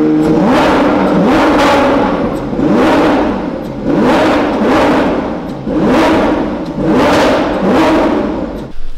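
A Lamborghini Aventador engine revs hard in repeated loud surges, each climbing then falling back, close by and steady for about nine seconds with no talk over it.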